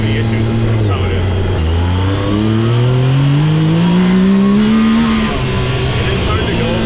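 Yamaha YXZ side-by-side engine revving loud and close, pitch climbing steadily then dropping abruptly at a hard single-clutch shift before rising again, with voices talking faintly underneath.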